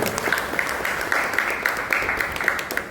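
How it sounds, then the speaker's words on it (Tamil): Audience at a Carnatic music felicitation event for the Purandara Dasa Aradhana claps in a dense, even patter, moderately loud, with faint voices mixed in. "கைத்தட்டு நன்னாவே இருக்கு."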